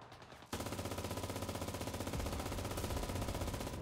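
A machine gun fires in the Enlisted video game. After a brief pause it breaks into a long, rapid, unbroken burst of evenly spaced shots, loud and close, with no talking.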